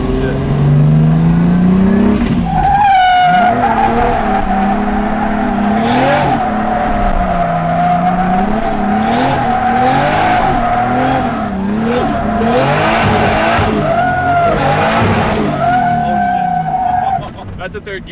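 A 1JZ-swapped Nissan S13 with raised boost breaks its tires loose, rising engine howl with squealing, skidding rubber over several seconds, close and loud, while people talk excitedly nearby.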